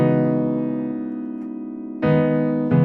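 Piano playing the last four chords of a song, sustained chords ringing out, with new chords struck near the end, clear and solo.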